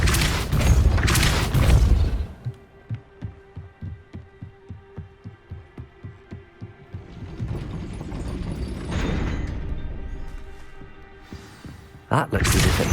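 A Depulso spell cast in Hogwarts Legacy, heard as a rapid run of rhythmic throbbing thumps over a low magical hum, closing with a sharp burst; game voices and effects swell around it.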